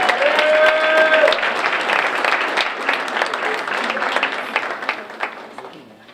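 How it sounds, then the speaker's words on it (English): An academic recognition ceremony audience applauds degree recipients, loud dense clapping with a few cheers and a whistle at the start, then gradually thinning and fading away. "Recognize our Associate of Arts degree recipients with another round of applause."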